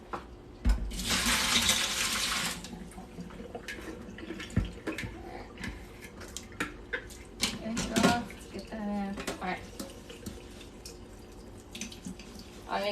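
Water running into a kitchen sink as lettuce is drained, a strong broadband splash for about two seconds, then scattered drips, clatters and small knocks with a person speaking over the quieter stretch.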